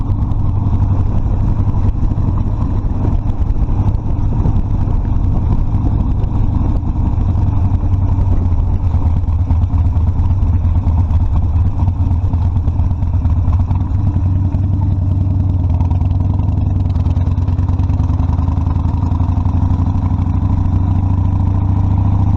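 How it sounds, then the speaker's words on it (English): Harley-Davidson Sportster Custom 1200 motorcycle riding over a bridge across the Intracoastal Waterway in Daytona Beach, a loud, steady low engine drone with wind rumble throughout and no talk. "You haven't lived unless you've ridden over this bridge on a motorcycle."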